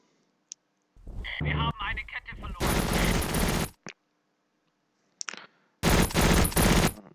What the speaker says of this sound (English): They're opening fire from machine guns at our Z30